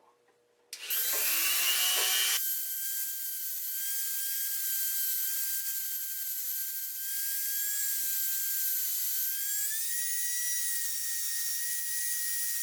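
A rotary tool whines steadily at high pitch as a fine stone grinds a cast aluminum hinge, loud and close, running continuously after a brief start-up.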